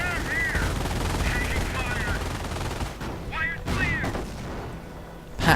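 Anti-tank gun firing continually in a wartime strategy video game: repeated cracking shots in clusters over a dense battle din of gunfire and explosions, moderately loud, with a heavier boom at the very end.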